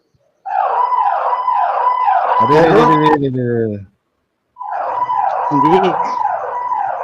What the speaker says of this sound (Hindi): अभी पुलिस की गाड़ी निकली थी, इस वजह से आवाज आ रही है